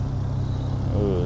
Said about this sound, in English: this Alpha sounds good. GTA 156, very cool